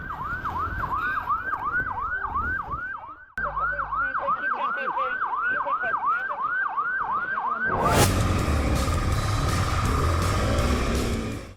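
A police car siren wails in a fast repeating yelp, loud and close, during a motorcycle chase, then shifts into a harsher, noisier blare near the end.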